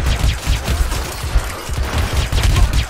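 Gunfire in the video game Hitman: Absolution, a loud, dense burst of repeated shots with heavy low booms running throughout, no talking over it.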